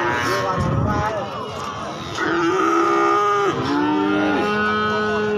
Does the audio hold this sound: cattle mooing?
yes